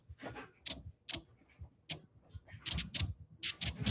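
Sloppy, inconsistent crab scratch on a DJ turntable, made while building an 80s hip-hop crate: uneven bursts of scratchy clicks in irregular clusters, close and fairly loud, with no talking.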